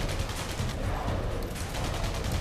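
Dense rapid gunfire blasts at aliens in the top-down shooter Alien Breed 2 Assault, a loud continuous rattling volley with no breaks, close and filling the whole stretch.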